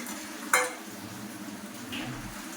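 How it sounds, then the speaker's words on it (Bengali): Chicken frying with spice paste in a pan, with a soft continuous sizzle, a single sharp clink of a utensil against the pan, and faint stirring scrapes. "এবার চিকেনের সঙ্গে মশলাটা আরও ভালো করে কষিয়ে দিতে হবে"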